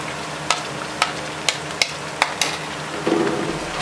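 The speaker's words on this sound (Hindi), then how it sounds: "लहसुन अदरक फ्राई हो चुका है।" Garlic and ginger frying in a pan for an aloo lobia curry, heard as a soft steady sizzle with several sharp scraping stirs of a spoon at regular intervals.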